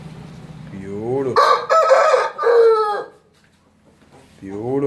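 An Aseel rooster of the parrot-beak fantail type crows loudly and close by in one long, wavering call, with other bird sounds just before and after.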